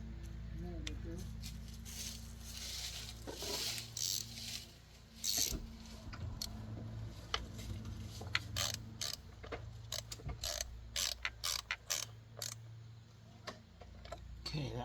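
A ratchet with an extension tightens a spark plug bolt on a Kia Forte, giving quick repeated clicks close by over steady background noise, with brief pauses between strokes.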